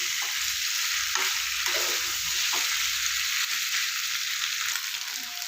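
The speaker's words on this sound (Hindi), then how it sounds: "इसीलिए मैं इतनी ज़्यादा फ्राई कर रही हूँ" Potatoes fry in a pan with a loud, constant hiss of hot oil close by, and a few soft stirring knocks break through in the first half; no voices are heard.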